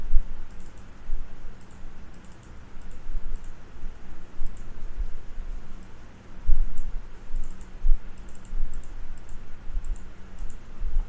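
Computer keyboard typing and clicking while working in Canva: quick, light keystrokes that come in short irregular bursts, faint and close, over a low steady room hum with no talking.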